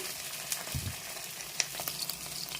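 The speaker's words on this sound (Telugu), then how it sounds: "ఆయిల్ హీట్ ఎక్కింది, పచ్చిమిరపకాయలు వేద్దాం" Green chillies fry in hot oil for a radish chutney, giving a steady close sizzle with a few soft clicks and one brief low thump, no voices.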